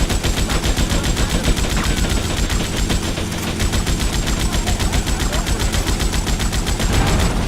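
Gunfire in GTA Vice City during a shooting gallery, a loud, steady automatic burst with rapid evenly spaced shots running almost without a break.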